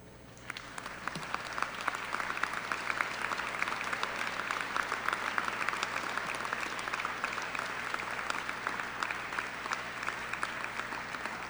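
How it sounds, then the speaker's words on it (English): Sustained applause from a large audience at a new student convocation, a thick, even wash of clapping that continues without pause. "receive their first round of applause from the students in class of 2021"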